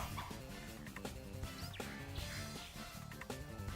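A dog barks in Pokemon Scarlet, a few short yips over busy, loud game music that runs throughout.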